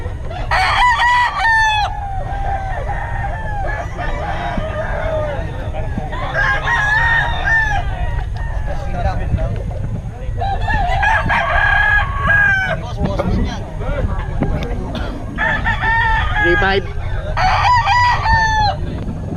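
Several roosters crow repeatedly in overlapping bursts at a Bocaue market, with hens clucking and a busy murmur of birds and people around them.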